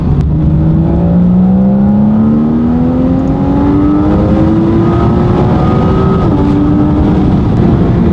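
A Porsche engine revs hard in the mountains at the Savoie Cup 2015, its loud, close note climbing steadily in pitch for several seconds as the car accelerates, with no talking.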